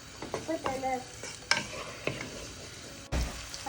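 Vegetables sizzle in a hot pan, with scraping and stirring clatter rising and falling throughout; nobody speaks.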